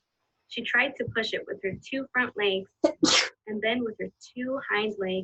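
A sharp single sneeze bursts out abruptly in the middle of a woman reading a story aloud, with steady speech before and after it.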